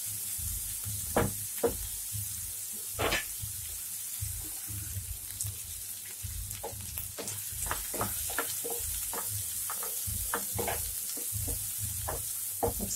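Chopped spring onion fries in a pan with a continuous close sizzle while a spoon scrapes and taps the pan in irregular stirring strokes.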